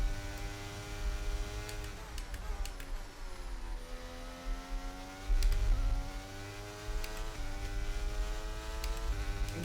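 A race car engine in a racing video game at Imola, with its harmonic tone rising and falling as the car runs in light rain. The engine spits and stutters briefly in places, with no talk over it.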